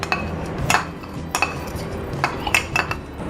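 A spoon stirs fruit chaat mixed with tangy-sweet tamarind and apricot chutney in a bowl, giving a handful of sharp metallic clinks against the dish over soft wet mixing, with no talking.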